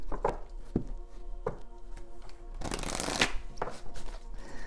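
Oracle cards being shuffled by hand in short riffling bursts, with a longer dense shuffle in the middle, close and fairly quiet, with no talking.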